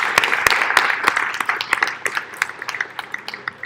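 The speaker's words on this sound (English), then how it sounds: "Kevin, Joe, Eric, how about a round of applause for these guys?" Scattered, uneven clapping from a small audience at a panel event held at a factory, with individual hand claps standing out sharply and fading in density over several seconds.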